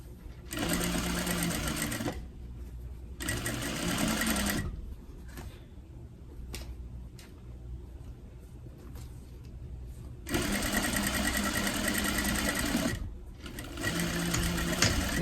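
A sewing machine stitches a half-inch seam on a small fabric tote bag in two long bursts with a short pause between them, stops through a quieter stretch in the middle, then runs steadily again close by.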